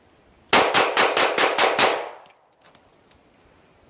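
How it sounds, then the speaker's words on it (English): A Walther PPS M2 LE pistol fires a rapid string of about eight shots, sharp, loud and evenly spaced close by, followed by quieter clinks of brass and handling. "I'm gonna be shooting rapid fire, center of mass"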